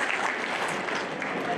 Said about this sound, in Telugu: నమస్కారానికి ప్రతి నమస్కారం చప్పట్లే గట్టి కొట్టండి ఒకసారి